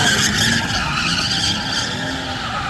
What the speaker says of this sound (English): Second time ever drifting.